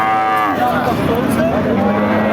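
A cow moos loudly and close by at a Chougachha cattle market in Jashore, one long drawn-out low call with crowd noise faintly behind it.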